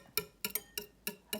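A spoon stirs an olive oil hair mask mixture in a bowl, giving five sharp, evenly spaced clicks and taps against the container, close and fairly quiet with no talking.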